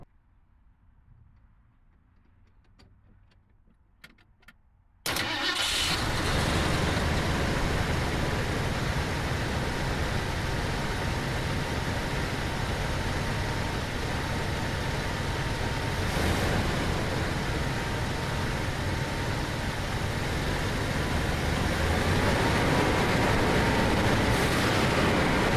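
A 1980 Ford Ranger engine fitted with a new fuel tank catches after a few quiet seconds and then runs steadily and loudly with a dense, rumbling drone, no voices over it.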